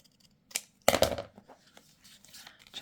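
Scissors snip through paper for a handmade no-sew journal cover, with a few crisp close cuts and light rustling of the sheet between snips.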